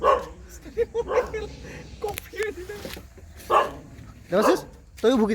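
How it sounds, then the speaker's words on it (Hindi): Two dogs barking back and forth at a picnic spot, short sharp barks and yips coming in bursts close by, mixed in with people talking over them. "तो इधर कुत्ता भौंक रहा है और ये दोनों कम्युनिकेट कर रहे हैं"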